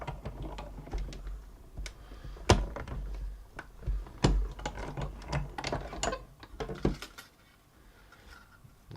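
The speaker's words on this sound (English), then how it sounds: "So we're going to cut these out using the big machine." A large manual die-cutting machine cuts wording from papercraft card, giving a run of sharp mechanical clicks and ratcheting knocks at an irregular pace, close and fairly loud with no talk.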